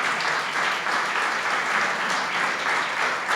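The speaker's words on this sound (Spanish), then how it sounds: "Dale un aplauso al Señor." A church congregation claps together in praise, a dense and steady roar of many hands that stays loud and even throughout without pause.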